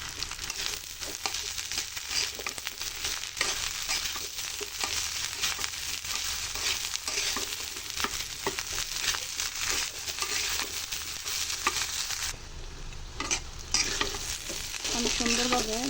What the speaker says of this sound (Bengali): আমি সুন্দরভাবে লাল করে একটু হালকা ভেজে নিয়েছি চালটাকে